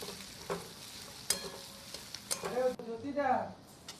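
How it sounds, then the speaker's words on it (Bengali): Turmeric, chili and cumin-coriander powder frying in a pan for egg biryani, stirred with a few scraping knocks over a light sizzle that swells toward the end, with faint talk in the background. "স্বাদ স্বাদ মতো হলুদ গুঁড়ো, লঙ্কা গুঁড়ো আর জিরে ধনে গুঁড়ো দিয়ে নাড়াচাড়া করতে হবে।"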